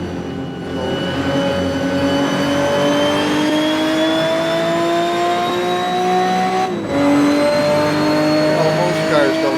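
A modified car engine on its first shakedown drive holds a steady, loud, high-revving drone that climbs slowly in pitch, drops briefly at a gear change, and then rises again.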